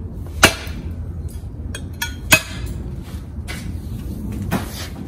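A cutting tool chops into a thick bonsai trunk, giving a few sharp, separated wooden impacts, two of them loud and close, over faint handling noise, with no talk.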